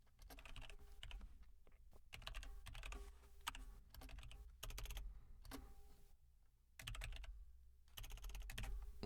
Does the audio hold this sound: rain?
no